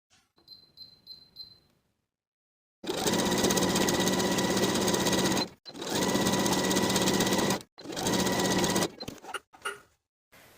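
A sewing machine runs gathering stitches around a summer dress skirt in three loud, steady bursts of rapid whirring, separated by short pauses, with faint clicks before the first run and a few short stutters at the end.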